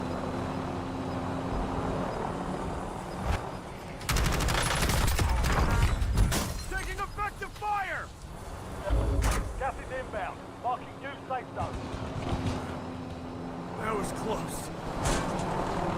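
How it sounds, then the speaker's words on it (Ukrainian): Bursts of rapid gunfire and loud blasts from Call of Duty: Warzone, some close and some distant, with speech running underneath. "Диви, там ще хтось стріляє."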